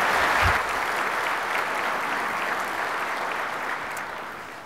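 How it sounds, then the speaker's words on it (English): Keynote conference audience applauds steadily for the full stretch, a dense, continuous clapping that starts strong and gradually tapers toward the end, with no voices over it. "How about a round of applause for Frank Kulishevitz?"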